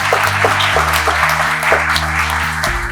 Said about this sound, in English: Let's have a big round of applause for Jay.